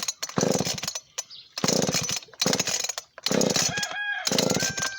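A flooded chainsaw on an older machine sputters in short bursts of loud, rough engine noise separated by pauses, as repeated start attempts fail to catch.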